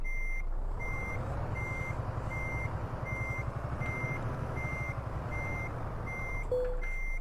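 Euro Truck Simulator 2 truck backing up to hook a trailer: regular evenly spaced reversing beeps sound throughout over a steady low diesel engine rumble, with a brief air hiss near the end.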